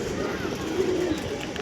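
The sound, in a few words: Andhra Star Kalanka pigeons cooing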